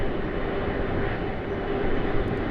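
A China Eastern airliner departing from runway 25 at Sydney Airport, heard as a steady, broad engine roar filling the whole stretch at constant loudness, with no voices.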